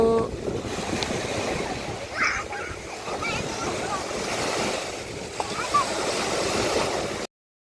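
Surf rolling onto an island beach, a steady broad wash of sea waves with wind buffeting the microphone throughout, and a voice talks faintly underneath.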